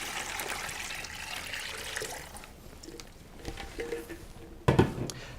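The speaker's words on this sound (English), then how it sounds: "We take a gallon of cold water and we just pour it right into our mixing vessel." A gallon of cold water pours into a mixing vessel with a steady rushing, trickling wash that fades, followed by a splashy clatter near the end.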